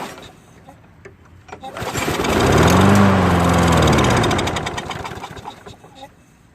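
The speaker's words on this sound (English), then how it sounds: "let's go ahead and prime the engine and try and start it." A primed Poulan Pro lawn mower engine catches after a few rattling pulls, roars briefly at full power, then sputters and dies back down; close and loud, with a voice speaking over the start.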